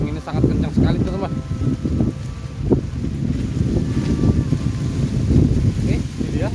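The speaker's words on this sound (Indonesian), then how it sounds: "Anginnya sangat kencang sekali" Strong wind buffets the microphone in a dry peanut field, a steady rough rumble that persists throughout, with a voice talking over it.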